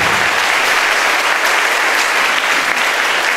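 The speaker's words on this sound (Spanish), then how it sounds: "le damos la bienvenida, un fuerte aplauso a nuestro obispo" A crowd at a church celebration of the patron saint San Jerónimo gives a strong round of applause welcoming the bishop, loud, close and continuous clapping with no talk.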